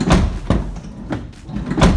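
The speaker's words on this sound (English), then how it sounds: "check that the door opens and shuts properly" A van's side load door is worked open and shut several times in quick succession, giving loud sliding rattles and solid thuds close by.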